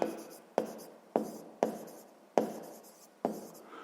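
Pen strokes scratch across paper while working a sixth-grade maths exercise, six distinct bursts of writing, each a sharp start fading out, close up and quiet with no talking.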